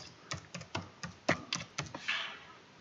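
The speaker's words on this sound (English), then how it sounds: "And then I would type in my address" An address being typed on a computer keyboard: a steady run of about ten evenly spaced key taps at moderate loudness, ending in a longer soft rustle, all over a faint background hiss.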